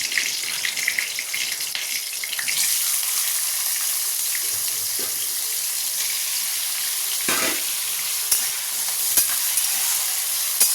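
Nigella seeds and dried red chillies are tempered in hot oil in a home kitchen, a dense crackling sizzle that flares loudly a few seconds in, then settles into a continuous hiss with a few sharp pops.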